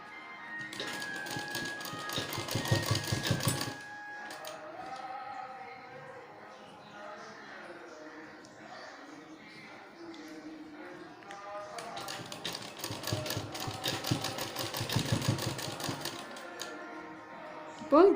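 A sewing machine stitches cotton cloth with elastic for a face mask in two rapid, rattling bursts of about three seconds each, close by, with someone talking quietly between them.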